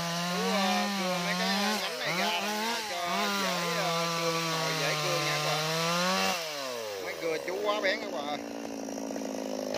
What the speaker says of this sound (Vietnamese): Bắt đầu cưa cái gốc xoài này nha các bạn.